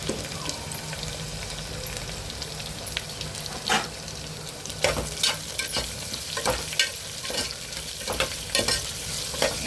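Three medium-sized onions sautéing in a pan for carrot rice, a steady sizzle with frequent stirring scrapes and clacks growing busier toward the end, close and alone with no voices.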